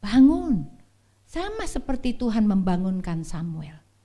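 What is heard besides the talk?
No everyday noises stand out.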